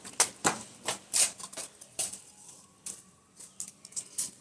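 Keys are tapped on a laptop keyboard in an irregular run of sharp, light clicks, close and fairly quiet, with short pauses between bursts.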